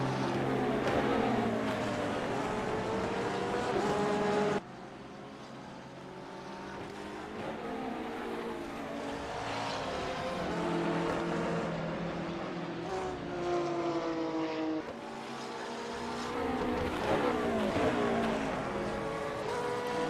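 Corvette GT3 race cars at Laguna Seca in a racing game, engines howling steadily and loud with repeated upshift sweeps and abrupt cuts, several cars overlapping close by.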